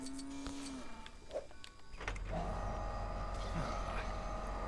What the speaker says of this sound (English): So we need to pick up the cow